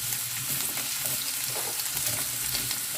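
Prawns frying over high heat in a pan as they are stirred, a loud, close, continuous sizzle with the scrape and shuffle of stirring running through it.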